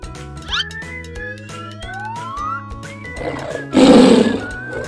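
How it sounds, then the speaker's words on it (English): A tiger gives a loud roar near the end, over a bright children's song with electronic tones and sliding notes. "T is for tiger."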